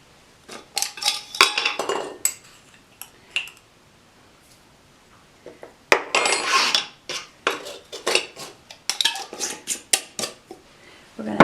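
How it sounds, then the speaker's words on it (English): A utensil clinks and scrapes against a bowl while melted butter and salt are mixed for homemade English muffin dough. The taps come in irregular bursts, close and fairly crisp, with a quiet pause in the middle. "mix that together"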